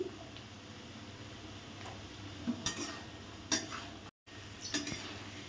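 Mixed vegetables and green peas fry quietly in a pan, a soft low sizzle broken by a few sharp clinks and scrapes of a spatula against metal.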